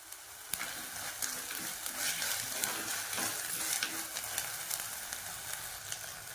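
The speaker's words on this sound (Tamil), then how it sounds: "இப்போ இஞ்சி பூண்டு பேஸ்ட் எல்லாம் நல்லா வதங்கிடுச்சு" Ginger garlic paste sautéing in a pan while preparing a quail dish, giving a steady close sizzle and crackle with occasional stirring scrapes throughout, no talking.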